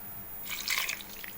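Water trickles into gram flour as dough is mixed, a faint soft splash and drip lasting about a second with no voices.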